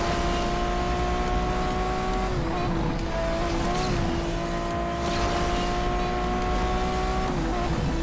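A Lamborghini engine revs with a loud, sustained tone that holds steady and dips briefly before climbing again, never flaring into an over-rev; no voices over it.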